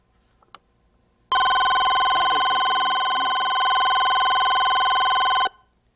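A telephone bell rings loudly in one long continuous electric trill that lasts about four seconds and then stops, with faint talk murmuring underneath.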